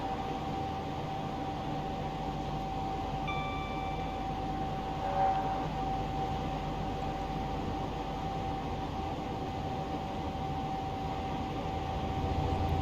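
A Class 91 electric locomotive accelerates in Train Simulator Classic, a steady broadband rumble of traction and rail noise with a constant electric whine and a few faint tones briefly rising over it.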